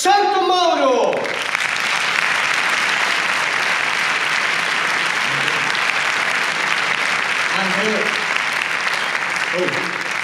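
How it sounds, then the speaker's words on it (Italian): An audience at a comedy show welcomes a comedian onto the stage with a long, steady burst of applause that fills the room, after a host's brief spoken introduction at the start. "vorrei accogliere qui al centro del palco con un caloroso applauso da parte vostra, Mr. Stefano Santomauro!"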